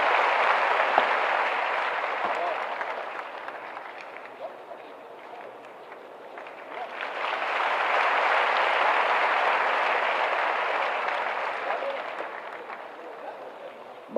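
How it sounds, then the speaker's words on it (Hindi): Large audience clapping at a ceremony for newly appointed Bihar police constables, loud and continuous, dipping briefly, then swelling again into a fuller wave before gradually easing; faint voices mingle underneath. "तालियां बजाएं।"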